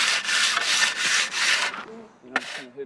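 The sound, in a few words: hand-troweling wet concrete for a DIY BMX skatepark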